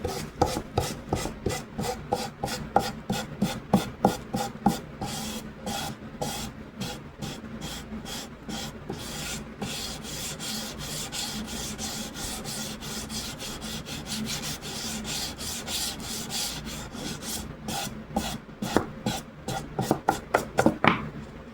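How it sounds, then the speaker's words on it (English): Fine 320-grit sandpaper rubbed over a burr on a wooden picture frame for 8x10 paintings, a close, steady rasping in quick repeated strokes that turns into a continuous scrubbing midway, then returns to short strokes. "It does leave a little burr, so I'll just take that off with a little bit of sandpaper. 320 sandpaper, and just kind of round it over."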